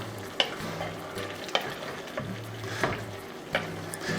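Spoon stirring tomato paste into a pot of lasagna soup: a few scraping knocks against the pot every second or so over a steady low sizzle, close and moderately loud, with no talking.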